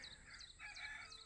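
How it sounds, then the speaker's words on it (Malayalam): A rooster crows once from a short distance at a campsite, its call rising and holding over a quiet outdoor background. "ആഹാ, കോഴി കരയുന്നു, കിളികൾ കരയുന്നു"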